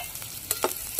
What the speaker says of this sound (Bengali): উচ্ছেটাকে ঢাকনাটা খুলে একবার নাড়িয়ে দেব